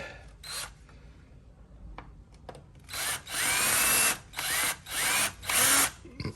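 A Ryobi drill whines in four or five loud, sustained bursts as it backs screws out of a shelf being dismantled, with quieter handling clicks before the first run.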